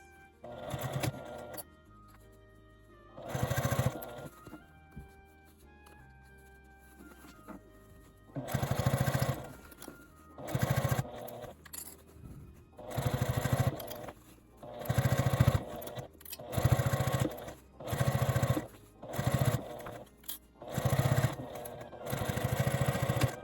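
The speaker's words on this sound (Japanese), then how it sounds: "次にこの真ん中の縫い目に沿って縦にミシンをかけます" A sewing machine runs in repeated bursts of steady rapid stitching, close and fairly loud, stopping briefly between runs.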